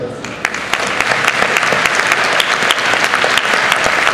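Dense, sustained audience applause at the Utopiales 2010 festival, a continuous wash of many hands clapping at steady loudness throughout, with a few sharper individual claps standing out and no clear speech.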